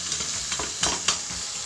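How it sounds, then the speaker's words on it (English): Chopped tomatoes sizzle in a pan of onions and spices for an Andhra-style chicken curry, a steady close hiss with soft spoon-stirring scrapes and a couple of louder bursts. "Now I'm going to add the tomato."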